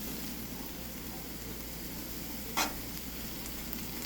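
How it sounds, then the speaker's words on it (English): Pork chops sizzling on a barbecue grill at a family camping cookout, a faint, even crackling hiss with one brief sharp pop. "the pork chops are sizzling away over there."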